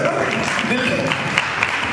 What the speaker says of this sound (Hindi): एक ताली